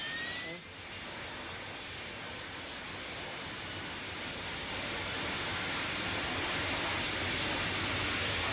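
British military jet aircraft in a Falklands War air attack on Argentine positions around Port Stanley give a broad, sustained engine roar that builds slowly in loudness over several seconds, with no talk.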